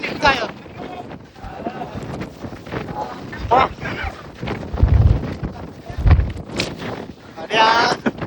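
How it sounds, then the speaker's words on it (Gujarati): Strong wind buffets the microphone on Girnar mountain in loud, gusty rumbles, with people talking and calling out over it. "જબરો પવન ચડ્યો નહીં"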